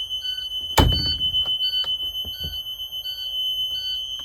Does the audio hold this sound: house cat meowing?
no